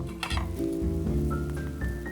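Pan noise with faint sizzling, clinks and scraping as bread and egg fry in a covered pan over low heat, plus steady low hum and a few tonal beeps; no talking.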